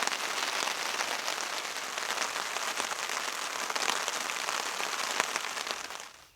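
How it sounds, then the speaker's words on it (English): Steady rain patters on a canoe campsite, a dense, even hiss of drops that holds throughout and fades out at the very end. "You can't tell Mother Nature to stop raining"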